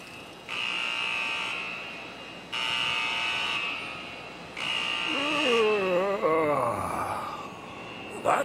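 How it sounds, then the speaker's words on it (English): An alarm buzzer gives three loud, harsh bursts of about a second each, separated by short gaps, followed by a wavering, warbling tone that slides up and down before a final sharp click. "That's my alarm."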